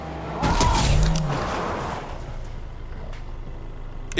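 A car in the video game Fortnite drives past, its engine swelling to a loud, close roar with a brief tire squeal, then fading into a low steady rumble.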